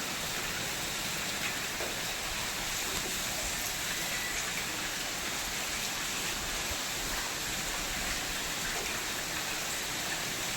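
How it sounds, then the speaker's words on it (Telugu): Steady, heavy rain pours continuously, a dense even hiss with no pauses and no voices. "వర్షం పడుతుంది ఫోను తడిసిపోయింది"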